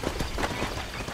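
Horse hooves clip-clopping in a Western video game, a quick steady patter of hoofbeats over a dense, noisy game soundtrack.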